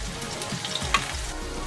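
Okra pakoda frying in hot oil, a close, continuous bubbling sizzle with one quick utensil click partway through, alone and without voices.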